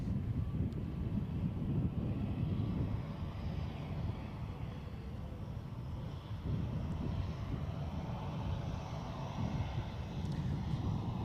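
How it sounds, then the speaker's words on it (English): An EasyJet airliner at Edinburgh Airport makes a steady, distant jet engine rumble that holds for several seconds with some wind noise and no talk. "we'll stay with this, just waiting for that EasyJet to vacate"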